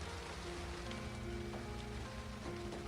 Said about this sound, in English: Can't complain when it's still raining at this time of the year.